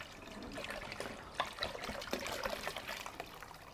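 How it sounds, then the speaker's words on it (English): Fuel drips and trickles out of a container after a Shell V-Power fill test, a steady faint patter of small drops falling alone with no voices. "We'll let all the drips come out."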